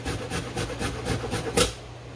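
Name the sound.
grating raw vegetable on a grater, held with a fork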